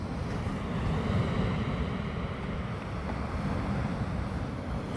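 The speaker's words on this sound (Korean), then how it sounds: "파도 소리 들려달라고?" Ocean waves wash onto a beach, making a soft, continuous rushing hiss mixed with low wind rumble, steady and fairly faint throughout with no voices.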